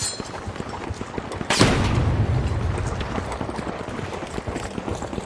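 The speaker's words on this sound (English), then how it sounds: "Frag grenade out!" A frag grenade explodes in a video game with a sudden broadband boom, followed by a rumbling tail that fades slowly beneath steady background battle noise.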